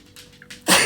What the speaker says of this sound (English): I'm sorry, I have to sneeze.